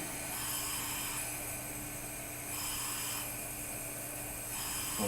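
Air hissing from an exhaust leak on a car engine, a steady broadband rush that runs continuously, close and fairly quiet, with slight surges in strength and no voices.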